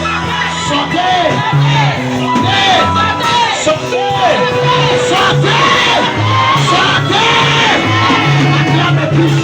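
A church congregation at a French-language prayer service cheers, shouts and yells loudly in overlapping bursts, with rising and falling voices and a lead voice calling out over the boisterous crowd.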